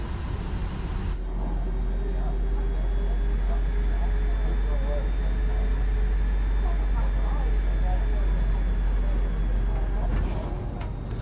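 Jet engines of a Boeing 767-400 in X-Plane 12 hum in a steady, low cockpit drone on approach to Chicago O'Hare, constant and fairly subdued, with faint radio-like chatter layered over the engine noise.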